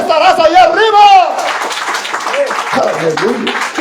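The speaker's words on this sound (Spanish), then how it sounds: "Dale un fuerte aplauso a ese Dios" A church congregation bursts into clapping during a Spanish-language sermon, brisk applause filling the room while the preacher's voice carries over it.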